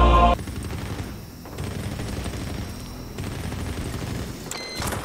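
Rapid gunfire from the video game Medal of Honor Warfighter: loud, dense bursts of shots and booms running almost continuously, with a sharp blast at the start.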